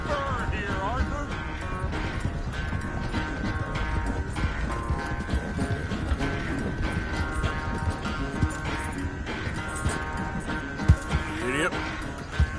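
A horse's hooves clip-clop at a steady run in Red Dead Redemption 2, continuous and close under game ambience, with a rider urging the horse on.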